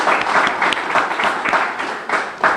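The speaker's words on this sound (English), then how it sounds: "So I'm going to ask you to give a little applause for Wayne and James and their team." Applause from an audience at a school IT resource centre opening, a steady burst of clapping from a modest crowd that holds for a few seconds, with no talk.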